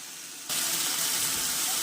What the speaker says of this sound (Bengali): মশলাটা কষানোর জন্য আর একটু হালকা নেড়ে দিচ্ছি